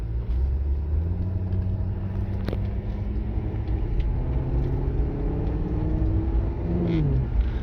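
A 2017 Maserati GranTurismo's engine drones steadily from inside the cabin at around 30 mph, its low exhaust note rising in pitch as it accelerates, with road rumble underneath.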